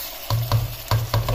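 Chicken is stirred in a pot for Kabuli pulao, four dull scraping strokes in an even rhythm over a low simmering sizzle, close and fairly loud, with no talk.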